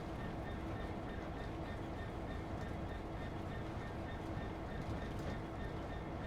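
A British Rail Class 387 electric train runs in the video game Train Sim World 2, with a steady loud rumble and drone that holds evenly throughout.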